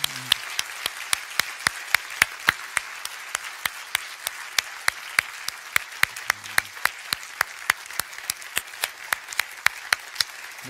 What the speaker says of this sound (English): I'd like to ask you to join me in giving them a round of applause for their really outstanding effort